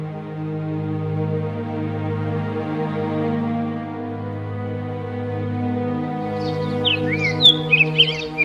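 Birds chirp and tweet in quick bright bursts toward the end, over a steady low drone that fills the whole stretch.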